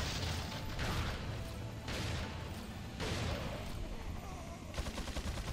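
Rapid gunfire bursts from the video game Resident Evil 4, loud repeated volleys in close succession with mechanical clatter, played in a blindfolded run of Chapter 5-4 on Professional difficulty.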